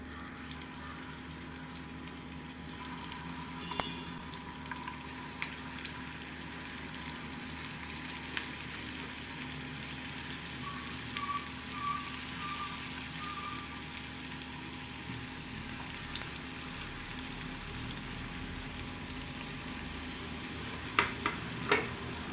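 Prawns fry in a little oil with ginger and garlic in a pan, a soft, even hiss throughout with occasional faint clicks and taps, fairly quiet and without talk.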